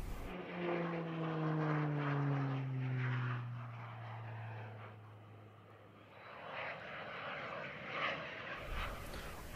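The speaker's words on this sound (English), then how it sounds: "Slovenia with a PC-9 trainer and light attack aircraft" Pilatus PC-9 propeller trainer passing at an airshow, its engine tone sweeping down in pitch as it flies by, loud at first and then fading into a distant rumble and crowd-area noise.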